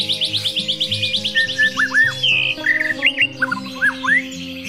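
A white-rumped shama (murai batu) songbird sings close and loud, a run of rapid chirps sliding into varied whistled phrases, over a steady background of tonal hum.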